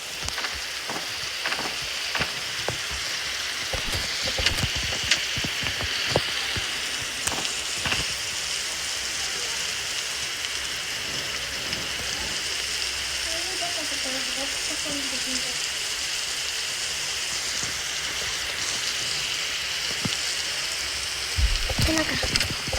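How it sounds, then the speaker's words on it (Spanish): Rain falls in the video game 99 Nights in the Forest as a steady, dense patter of drops on surfaces, heard throughout with occasional sharper taps and brief faint background sounds. "Empezó a llover,"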